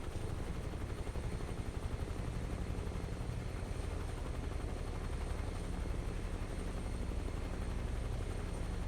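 Steady, loud helicopter rotor thump with a chopping low-end pulse and engine whine, continuous and close throughout, from a flight simulator resupply mission to Khe Sanh.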